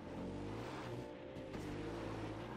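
Car engine humming steadily while driving in Far Cry 4, a low continuous drone with a slight pitch change midway, faint overall.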